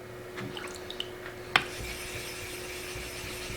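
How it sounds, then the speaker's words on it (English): A nagura block scrubs the face of an Aotoshi 2000 "Green Brick" water stone, giving faint wet rubbing strokes with a few light taps and one sharper knock, close and quiet against a steady hum. "it takes a little bit of scrubbing to freshen up that surface"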